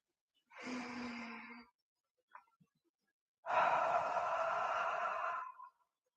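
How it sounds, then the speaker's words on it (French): Two long, slow breaths from a person lying still in a quiet room, the first a soft inhale-like rush and the second a louder, fuller exhale, with a short pause and a faint click between them. "fermez les yeux et prenez 3 grandes respirations."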